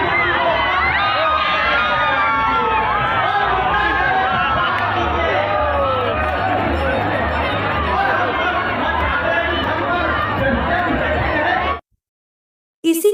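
A huge, dense crowd packs the Durga Puja pandals, with a continuous loud roar of chatter, children shouting and cheering that runs without a break before cutting off abruptly near the end.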